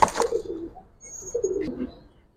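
Giribaz pigeons coo softly in a loft, with two low rolling coos and a faint chirp between them, close by and without talk.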